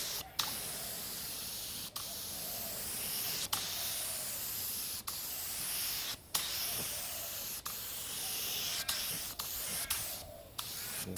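Aerosol spray can laying a coat of black paint on parts of a Ford XC Fairmont 351 under restoration, a steady close hiss running almost continuously, broken by many brief pauses between passes.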